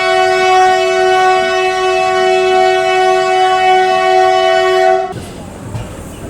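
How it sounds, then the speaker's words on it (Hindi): Varanasi Vande Bharat Express high-priority train sounding a loud, sustained horn close by for about five seconds, then cutting off abruptly to leave a rushing rumble of the passing train. "वाराणसी वंदे भारत एक्सप्रेस भाई।"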